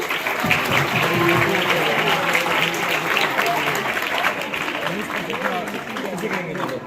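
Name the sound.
audience applause for a teacher at a school maths fair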